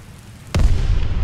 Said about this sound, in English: hold your fire till they blow the gates